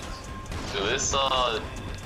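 A video-game laser gun fires with a bright, warbling zap that sweeps and pulses for about a second, close and prominent, with a brief thud before it and a player's voice around it.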